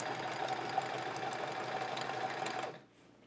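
A sewing machine stitches quilt rows together, a steady close motor hum with rapid stitching that runs for under three seconds and then stops, leaving near silence, with no talking.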